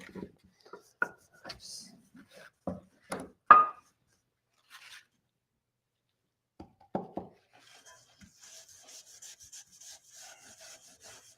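Hand rubbing on a painted vintage French tart tin to distress the finish: scattered scrapes and knocks come first, then after a pause a soft, steady rasping scratch runs to the end.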